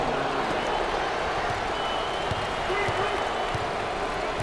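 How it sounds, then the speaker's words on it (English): Home fans in a basketball arena at a Big Ten tournament game, Rutgers against Maryland, roar in a steady, dense wall of crowd noise with scattered claps throughout. "I think the home fans are going crazy."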